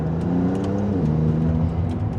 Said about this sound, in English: You can hear the turbo sounds since they're right behind you there.